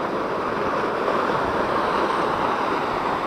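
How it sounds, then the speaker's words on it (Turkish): Steady, dense rushing roar of strong wind mixed with falling water at Yerköprü waterfall in Mut, Turkey, constant and loud without pauses. "şu an enfes bir rüzgar var"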